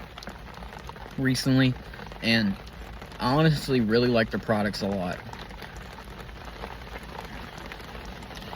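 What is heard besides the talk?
rain falling on a car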